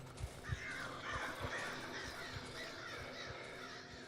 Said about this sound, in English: I don't know why there's crows.